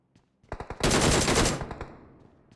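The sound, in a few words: gunfire in a video game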